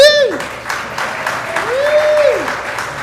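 An audience in a museum performance space applauds steadily for about three seconds, with a sustained tone sliding over the clapping.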